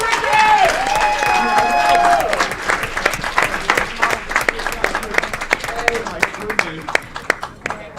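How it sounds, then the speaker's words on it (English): An audience at an Aurora city council meeting applauds a youth championship team with a loud burst of clapping that thins into scattered claps, with voices and cheering mixed in. "All right, another round of applause for our team."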